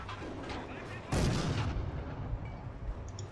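A single heavy gunshot or artillery boom from the video game Forgotten Hope cracks sharply, then rolls into a decaying rumble over faint background noise.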